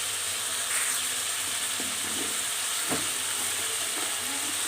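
Potatoes fry in a pan with oil and sautéed garlic-ginger paste for pulao. The sizzle is dense, steady and close, with a few soft clicks and scrapes from stirring.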